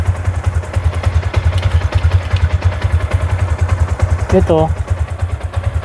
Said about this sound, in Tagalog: parang matay na yung makina. Ayan, ayan o. Napansin nyo mga master, ayun, pahina siya ng pahina.